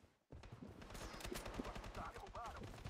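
Rapid bursts of automatic gunfire in the video game Blood Strike, dense and continuous after a brief quiet opening, with a voice faintly heard under the shooting.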